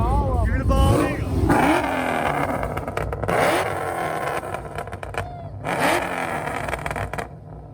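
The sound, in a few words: Nissan 350Z drift car engine revving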